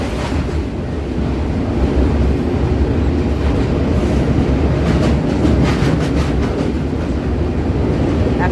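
A train crosses a long bridge over the Godavari river, its loud continuous rumble and rhythmic clickety-clack of wheels on rails filling the whole stretch.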